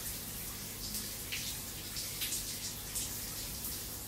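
Scorching hot shower water runs in a steady, close hiss with faint splashing patter and no talk.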